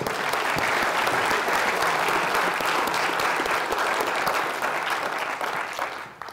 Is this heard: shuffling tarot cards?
no